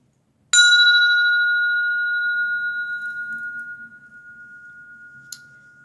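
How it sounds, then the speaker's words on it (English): A single strike of a small ringing bell used for grounding gives a bright, clear tone that sustains and slowly fades over several seconds, with a faint tap near the end and no talking. "I'm going to center you and ground you using my bell."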